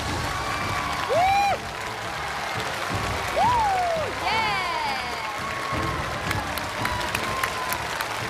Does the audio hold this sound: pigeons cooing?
no